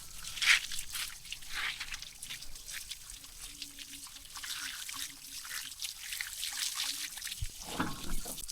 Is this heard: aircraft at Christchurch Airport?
no